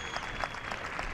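Stadium crowd at a women's football match between Atlético de Madrid and Eibar applauds a substituted Venezuelan player, a steady distant wash of clapping and crowd noise.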